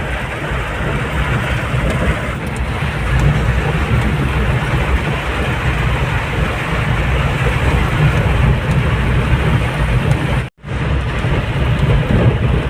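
Heavy rain pours down in a steady loud wash with a deep rumble beneath it, continuous apart from a brief dropout near the end.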